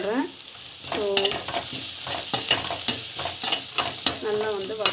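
Chana dal and turmeric sautéing in a pan, a steady sizzle under repeated scraping stirs of a spoon, with a few squeaky strokes against the pan surface.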